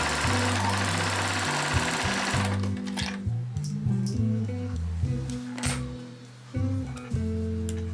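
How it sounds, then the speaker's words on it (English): A sewing machine finishing dress seams with an overlock stitch, running in loud close bursts of rapid mechanical chatter that stop and restart several times. "I like to finish the seams with an overlock stitch, but you can use a zigzag stitch"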